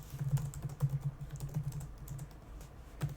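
Computer keyboard keys clatter in a steady, close run of quick taps while code is typed, with brief pauses between bursts and no speech.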